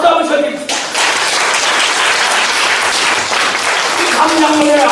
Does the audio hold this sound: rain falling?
no